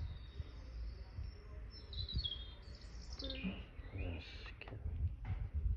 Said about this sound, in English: There's a lot of birds, man